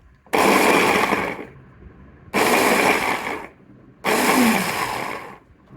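A Fumato chopper blender runs on turbo speed in three loud, roaring bursts of about one and a half seconds each, separated by short quiet pauses, with the blades whirring harshly through the food close up.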